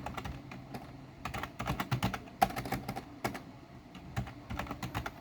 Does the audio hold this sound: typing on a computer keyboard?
yes